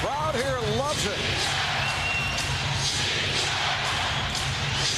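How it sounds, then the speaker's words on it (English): A basketball arena crowd at a 2001 Lakers NBA game roars steadily and loudly, a dense sustained cheer filling the whole clip while a voice talks briefly at the start. "Crowd here loves it."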